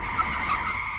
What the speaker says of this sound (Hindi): तो फिर गाड़ी क्यों रोक दी?